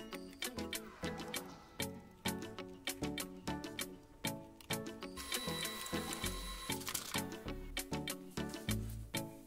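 A printer runs off a mirrored pencil drawing, its mechanism clicking and whirring in a steady repeating rhythm of sharp ticks and feed passes, close and continuous throughout.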